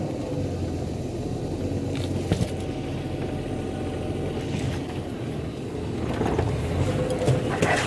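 A safari vehicle's engine runs with a low, steady rumble on the trail, sounding rough while the vehicle is having trouble, with a brief knock partway through and the rumble swelling slightly toward the end.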